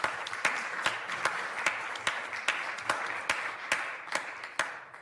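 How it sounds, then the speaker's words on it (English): A crowd at a Huntington Beach city council swearing-in gives a steady golf clap, with a wash of applause punctuated by regular, evenly spaced sharp claps throughout. "So with that golf clap"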